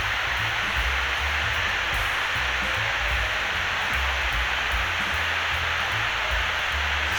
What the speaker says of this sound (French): après c'est la même cascade mais vue du bas